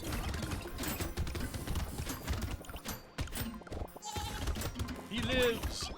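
Sheep bleat in the Brotato video game over a busy layer of game effects and clip-clop sounds, with someone talking over the action.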